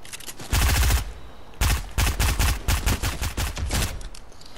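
Rapid bursts of gunfire in Fortnite, loud and close, coming in two rattling volleys with a brief gap, then trailing off into lighter scattered shots.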